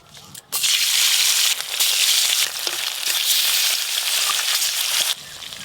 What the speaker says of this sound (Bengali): এবার মাছগুলো সব ভেজে নেবো।